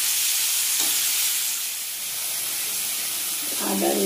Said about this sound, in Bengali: আলুটা ভাজা হতে হতে ততক্ষণে আমি মিক্সিতে মশলাটা করে নেব